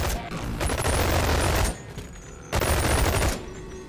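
Dual SMGs in the VR game Boneworks fire in two dense, rapid bursts separated by a short gap, loud and close with a rattling, crackling edge.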